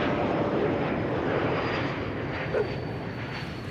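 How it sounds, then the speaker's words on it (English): An Embraer E2 195 airliner arriving at Amsterdam Schiphol produces a steady, broad engine roar. The sound holds even and fairly loud, fades slightly toward the end, and no one talks over it. "And the first arrival, E2 Embraer 195."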